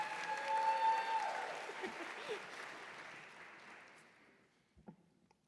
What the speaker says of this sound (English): let's give Dr. Lam a round of applause for her campus leadership as well